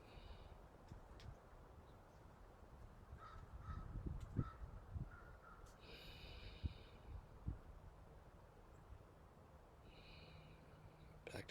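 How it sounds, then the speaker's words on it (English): A crow caws a few times in the distance, faint harsh calls over quiet outdoor ambience with light rustling. "Hear the crow."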